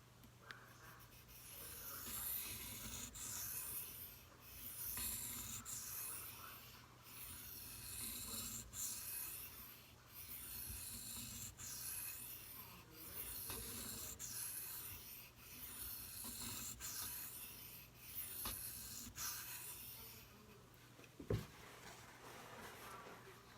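A knife bevel is sharpened with slow, rhythmic strokes against a stone, repeated rasping rubs close by and quiet, with a faint hum beneath and a single sharp tap near the end.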